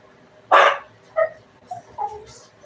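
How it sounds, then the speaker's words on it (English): A dog barks indoors at people in a hallway: one loud, close bark followed by three softer, shorter barks and yips, with no talking. "what are you barking at, Chong?"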